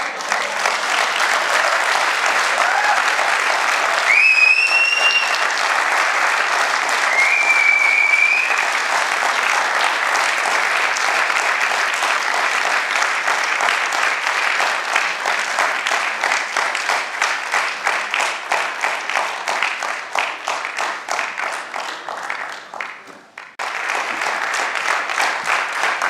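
Theatre audience applauding at length, a loud, steady roar of clapping that holds for most of the stretch, briefly dips and thins near the end, then swells back, with a few whistles early on.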